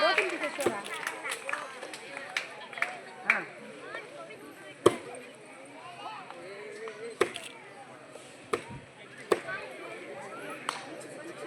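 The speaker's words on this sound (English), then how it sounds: "See how they are getting their strength to break those big vegetables." Children at a school karate performance break big vegetables with karate strikes, making sharp scattered cracks and thuds amid cheering voices and crowd noise.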